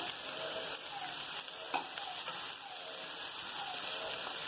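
Spring onion whites sautéing in a pan for restaurant-style paneer fried rice, a dense, bright, steady sizzle close up with occasional soft stirring clicks, no talking.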